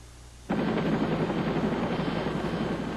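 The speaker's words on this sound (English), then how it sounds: "The helicopter came in." A helicopter arrives at a roller coaster accident scene, its rotor roar cutting in abruptly and staying loud and steady, a dense, close wash of thudding noise.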